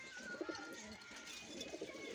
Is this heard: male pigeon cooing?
yes